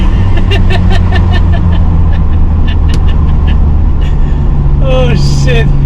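A BMW 525i E34 drives at speed, its engine and road noise forming a loud, constant drone with a steady low hum, and a brief voice-like sound breaking in near the end.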